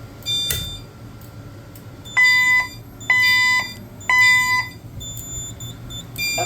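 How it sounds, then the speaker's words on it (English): Fire alarm set off from a GE pull station: a sharp click, then three loud, evenly spaced electronic chime-horn tones ringing in a room, each about half a second long. "Alright, let's re-alarm with the GE pull station. So this one, we just pull down."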